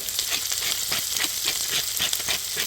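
New potatoes with truffle sauté in a pan, making a close, continuous sizzle with rhythmic scraping and stirring strokes about twice a second. No one speaks.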